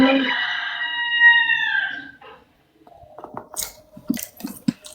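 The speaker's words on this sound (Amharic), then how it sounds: "የማን ዶሮ ነው የሚጮመው?" A rooster crows once, a loud, drawn-out call lasting about two seconds, followed by a short silence and then soft clicks and chewing-like noises nearby.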